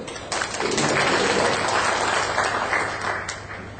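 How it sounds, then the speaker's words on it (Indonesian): An audience at a village government information-management socialization event breaks into loud, sustained applause, a dense wash of many hands clapping that holds steady and tapers slightly at the end. "Jadi kita kasih tepuk tangan buat"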